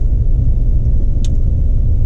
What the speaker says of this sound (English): So I need to focus on driving here.